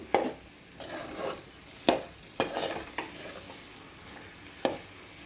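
Cabbage and chana dal curry with salt and chili cooks in a pan, heard as a faint soft sizzle broken by several distinct scraping stirs of a spoon against the pan.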